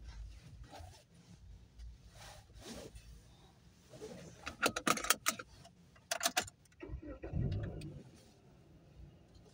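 Car driven slowly with a seat belt being fastened, irregular clicks and rattles of belts and keys inside the cabin over a low engine rumble, no talk.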